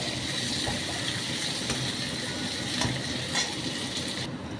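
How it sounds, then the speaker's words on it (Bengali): Onions softening in hot oil in a pan for a mixed vegetable korma, a steady close sizzle with repeated scraping stirs and a few sharper clinks of the spoon against the pan, no talk. "পেঁয়াজটা বেশ নরম হয়ে ভাজা হয়ে এসছে"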